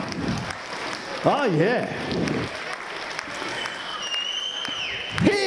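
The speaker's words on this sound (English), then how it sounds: "Give them both a round of applause." At a charity auction during a gala ball, an audience applauds between bids while voices call out over the clapping, which stays moderate and fairly close.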